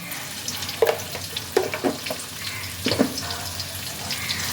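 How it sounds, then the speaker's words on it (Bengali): Potato pieces frying in oil with a little salt in a pan, an intermittent sizzle with clinking stirring knocks, close and without voices. "আলুর টুকরোগুলোকে তেলের মধ্যে খানিকক্ষণ একটু ফ্রাই করে নেব।"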